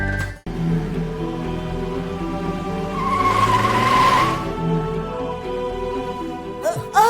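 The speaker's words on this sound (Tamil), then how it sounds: "ஏன்டா பிரேக் போட்டு நிறுத்துன?" A car skids to a sudden braking stop, a loud sustained tire squeal rising and fading over several seconds amid engine and road noise, ending with a brief thump.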